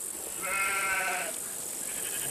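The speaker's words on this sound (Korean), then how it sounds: "양과 염소는 항상 같이 기릅니다." A single sheep or goat in a mixed herd of sheep and goats lets out one wavering bleat at moderate distance over a quiet outdoor background.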